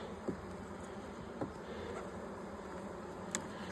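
Honeybees buzz in an opened hive during an inspection, a steady close drone with a few faint clicks and knocks over it.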